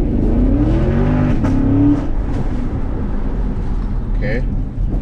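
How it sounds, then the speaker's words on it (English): A Chevrolet Camaro SS with about 25k miles rumbles loudly up close as it drives and accelerates, its deep engine tone rising, while someone talks over it. "So this is how I drive the car most of the time."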